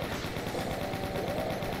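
Plasma rifle firing in the Doom game, a dense, continuous rapid stream of energy shots with a steady loud buzzing texture throughout.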